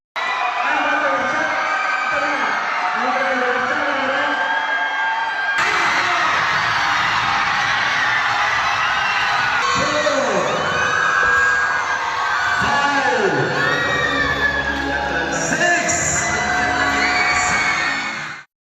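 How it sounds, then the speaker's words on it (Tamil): A large crowd of schoolchildren cheers and shouts loudly for a bodybuilder training in front of them, a continuous roar of whoops and yells that swells in waves over about eighteen seconds. "மாணவ மாணவிகள் கைத்தட்டி ஆரவாரம் செய்து கண்ணனை உற்சாகப்படுத்தினர்"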